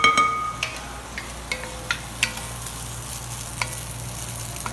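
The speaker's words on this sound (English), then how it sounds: "Alex, I hear the tomatoes are popping." Tomatoes frying in a pan give a steady soft sizzle, with scattered sharp pops and crackles spaced irregularly through it, fairly quiet and close.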